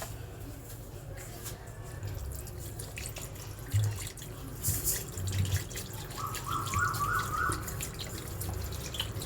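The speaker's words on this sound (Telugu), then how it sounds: "ఇప్పుడు వాటర్ అనేది యాడ్ చేసేసుకోవడమే" Water poured into a pot of chicken curry pieces coated with salt, chili powder and turmeric: a steady, close trickling and dripping that runs for several seconds with a brief brighter splash near the end, no talking.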